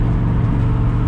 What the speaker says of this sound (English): You hear this car that has no mufflers in it